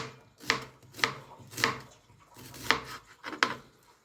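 Onion being chopped into rings on a board, five distinct knife thuds at an uneven rhythm, close and fairly soft, no speech.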